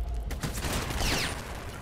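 Gunshots fired at a downed enemy in a video game, heard as a close, dense flurry of rapid shots running through the brief moment.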